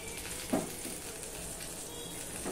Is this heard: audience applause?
no